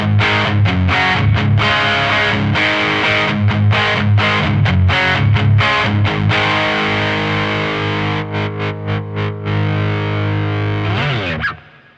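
Electric guitar driven through an Ibanez Tube Screamer overdrive pedal into a Maton amp, loud and saturated, with sustained distorted chords and choppy strummed bursts that fade out at the end.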